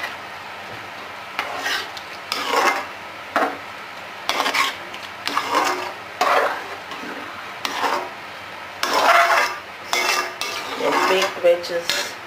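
Utensil scraping and clinking against a pot while baked vegetables are stirred, in repeated short bursts with pauses between, fairly close and alone without talk.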